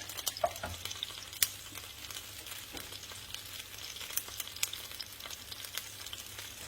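An onion and pepper mix fries in hot olive oil, a steady soft sizzle with occasional light stirring taps and no voices.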